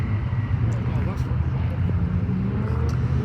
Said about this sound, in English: So the car's now coming up into position